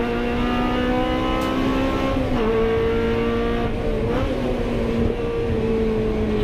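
Honda Civic hot hatch race cars at Rockingham in a 750 Motor Club race, engines droning loud and steady as they battle past, with pitch shifting through gear changes and no voices.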